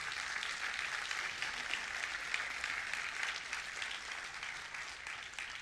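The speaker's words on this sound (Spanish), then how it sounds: "Dele un fuerte aplauso a Dios." Steady broadband applause from a crowd, sustained and even throughout with no talking.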